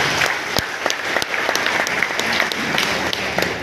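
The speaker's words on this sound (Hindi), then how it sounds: "एक बार इनके लिए जोरदार ताली।" Loud, close crowd applause at a village inauguration of a cowshed gate and sheds in Gorakhpur, vigorous continuous clapping from many people with sharp individual claps standing out.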